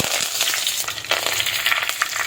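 Brief burst of crackling and sizzling as curry leaves hit hot oil after mustard seeds, with fluttering spatters over a couple of seconds.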